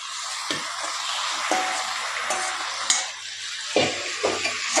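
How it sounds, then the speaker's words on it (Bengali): Boiled taro greens go into a hot pan with hilsa fish head, a steady loud sizzle with a few soft scraping bumps as they are moved around. "এইবার আমি এর মধ্যে দিয়ে দেবো সিদ্ধ করে রাখা কচু শাকগুলো"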